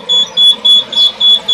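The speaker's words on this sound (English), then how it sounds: "I'm on 2 circuits, so my buzzer's buzzing." A machine's buzzer sounds in a steady pulsing pattern, six loud evenly spaced beeps close up with short gaps between them.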